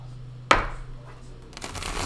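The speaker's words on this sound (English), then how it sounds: "I'm going to shuffle the Gilded Tarot" A deck of Gilded Tarot cards shuffled by hand, a sharp riffle snap followed by a softer, longer rustle of cards sliding together, close and clear.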